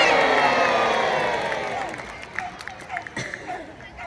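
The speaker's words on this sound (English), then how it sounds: "Let's have a cheer." A crowd cheers loudly at an outdoor naval gun battle re-enactment in Peasholm Park, Scarborough; the broad roar swells at first, then thins into scattered shouts and claps over the last couple of seconds.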